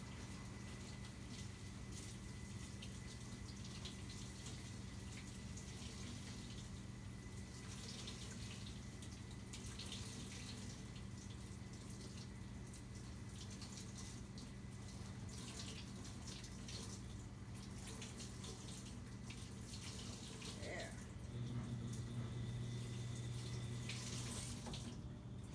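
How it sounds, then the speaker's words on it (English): Hot water pours steadily from a tap over felted cashmere baby booties, a continuous close splashing rush with a slight change near the end. "I'm going to take them and put them under some hot water."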